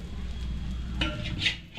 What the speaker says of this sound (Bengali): এটা গাওয়া ঘি দিয়ে ভাজবো